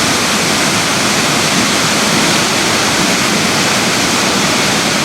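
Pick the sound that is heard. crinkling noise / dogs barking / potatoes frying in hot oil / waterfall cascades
waterfall cascades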